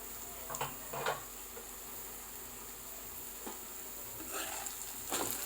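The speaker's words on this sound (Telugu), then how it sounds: "ఒకసారి కలిపేసుకుందాం ఆనియన్స్." Onions frying in a pan for chicken curry, stirred now and then: a steady soft sizzle with a few brief scraping stirs, close and moderately quiet, with no talking.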